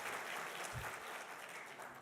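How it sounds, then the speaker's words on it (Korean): A church congregation claps during a Sunday worship service, giving a steady, diffuse patter of many hands at a soft, distant level, with a brief low thump partway through. "여러분도 박수를 치죠"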